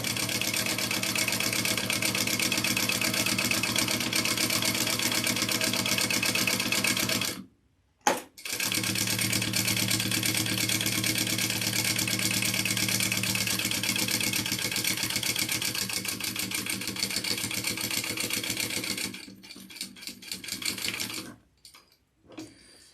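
A sewing machine stitches an Aimani backpack in a rapid, steady mechanical whirr with two brief pauses, then slows into short stop-start bursts near the end.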